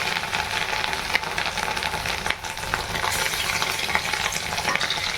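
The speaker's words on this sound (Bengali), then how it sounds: "আর এই বড়া ভাজা।" Fish roe fritters fry in hot oil in a home kitchen, a loud continuous crackling sizzle with popping spatters throughout and no talking.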